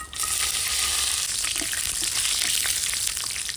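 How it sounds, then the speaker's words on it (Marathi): A cup of finely chopped coconut roasting in oil in a pan for a Maharashtrian black chicken sukka masala, giving a dense, continuous hiss with faint stirring scrapes, close and steady, and no voices. "इथे मी एक वाटी खोबरं घेतलेले बारीक शिरून ते आपण आता व्यवस्थित परतून घेऊ"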